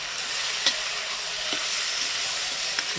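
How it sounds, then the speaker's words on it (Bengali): Spices with hot chilli powder and Kashmiri chilli powder sizzle steadily as they are stirred and fried in a pan for a pointed gourd and Gobindobhog rice dish, a continuous close hiss with a few soft scrapes. "ভালো করে কষিয়ে নিতে হবে মশলাগুলোকে"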